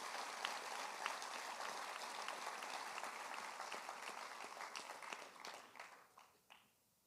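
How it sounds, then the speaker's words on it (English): Sustained audience applause at a Teacher of the Year awards ceremony for the top five finalists, a dense wash of many hands clapping from a distance that thins and fades away toward the end. "So how about one more round of applause for our top 5 finalists?"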